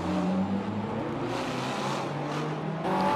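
A Ferrari F12 Superfast race car in Forza Motorsport 7 at Hockenheimring drives with a loud, continuous engine roar. The pitch rises and falls as it revs, and a brief tire squeal may sit in it. No one talks.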